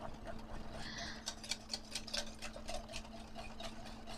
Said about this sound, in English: I believe the eggs are whisked enough.